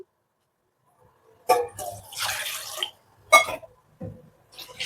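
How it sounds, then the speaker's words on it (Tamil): Water splashes and pours into a pot in short bursts, with a steadier stream in the middle, close by in a quiet room, while making tomato rasam. "இப்போ தண்ணி ஊற்றிக்கலாம்."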